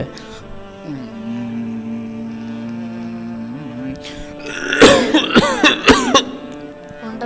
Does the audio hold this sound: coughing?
yes